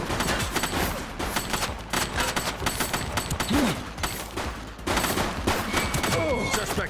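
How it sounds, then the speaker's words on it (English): Gunfire from The Precinct on PS5 crackles in rapid bursts and volleys, loud and close, with brief pauses between strings of shots and occasional shouted voices mixed in. "She's shooting!"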